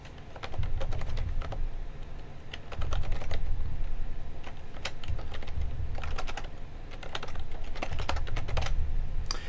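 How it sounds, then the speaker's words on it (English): Rapid clicking on a computer keyboard as data is typed into a web form, in bursts of keystrokes separated by brief pauses under a low steady hum, with no one speaking. "I'm just going to type some data in."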